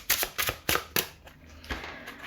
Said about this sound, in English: I'm trying to shuffle these cards, but they're very noisy when I shuffle them